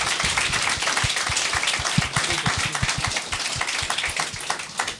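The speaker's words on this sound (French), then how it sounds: "Bonne main d'applaudissement, pour Michel Grenier." A radio show's studio audience applauds a guest, Michel Grenier, with dense, loud clapping that holds steady for several seconds, with no voices over it.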